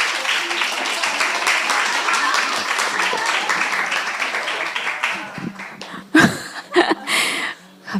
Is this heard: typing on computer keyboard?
no